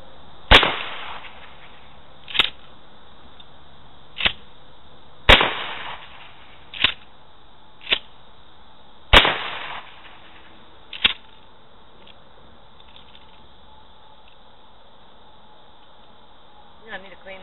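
A Mossberg 500 12 gauge shotgun fires Winchester shells outdoors, with about eight sharp, loud blasts spaced roughly one to two seconds apart, then a quieter stretch with a faint click near the end.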